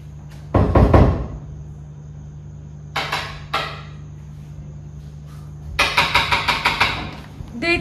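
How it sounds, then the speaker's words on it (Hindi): Someone pounds hard on a door in loud bursts of rapid knocks, separated by short pauses, with a low engine-like hum running underneath. "देखा दोस्तों कितनी जोर से दरवाजा पीटते हैं?"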